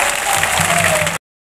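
A dense crowd claps steadily at an outdoor election rally in Purnia, Bihar, loud and close, the applause holding for about a second before cutting off abruptly.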